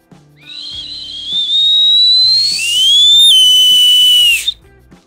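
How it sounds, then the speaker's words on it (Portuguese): A handheld whistle sounds in one continuous blow, starting soft and thin, then swelling into a loud, piercing tone before cutting off abruptly. "Aí a gente coloca o apito e vai soprando. Primeiro bem fraco e depois bem forte"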